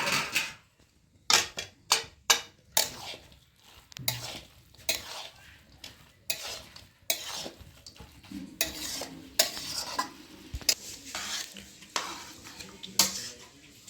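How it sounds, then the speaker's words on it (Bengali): Cabbage curry stirred in a pan: a spatula repeatedly scrapes and clanks against the metal in irregular bursts over a low sizzle, close and fairly loud. "খুলে সব দিকে আরেকবার নেড়ে দেবো"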